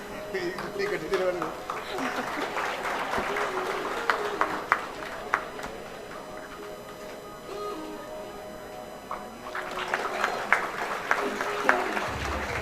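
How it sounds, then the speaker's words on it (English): Audience applause at an award ceremony and summit, a moderately loud crowd clapping heard at a slight distance, mixed with background talk and a faint music bed, thinning midway and swelling again toward the end. "Please give a big round of applause."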